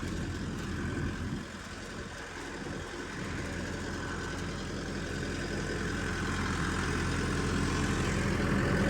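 A tractor engine, an Arjan 605 or Standard 460, runs steadily after being shifted into second gear, a continuous low diesel drone that holds level and grows slightly louder toward the end, with no talk.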